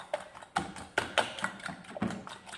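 A fork beats a sugar mixture in a bowl for a steamed Milo sponge cake, giving a quick, uneven run of light clicking taps against the bowl's side. The taps are close and moderately loud, with no talking.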